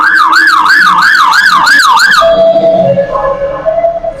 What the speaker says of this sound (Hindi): emergency fire alarm